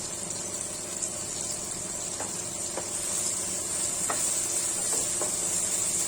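Garlic-ginger paste frying in a pan for a pointed gourd curry, giving a steady quiet sizzle and hiss with a few faint utensil taps, and no speech.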